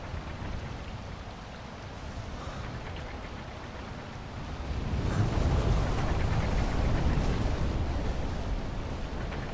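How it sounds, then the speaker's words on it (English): Endless rain falls in the video game Wild Hearts. It makes a steady broadband hiss that swells noticeably louder about halfway through, with no voices. "Another victim of this endless rain."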